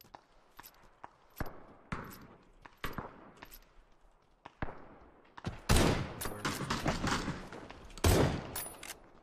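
Gunfire in the PUBG battle royale game: scattered single shots early on, then dense bursts of rapid fire and a shotgun blast, with light footsteps between them and no voices.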